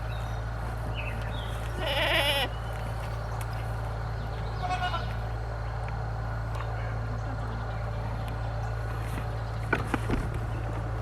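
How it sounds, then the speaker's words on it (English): A tiny young goat lets out a few brief bleats, one louder burst and fainter calls later, over a constant low hum with soft footsteps and occasional speech. "He's a tiny goat."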